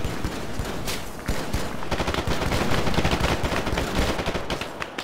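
Dense bursts of automatic and single-shot gunfire from friendly forces in the military shooter game Arma, rattling continuously at mid distance for about five seconds with overlapping volleys and no speech.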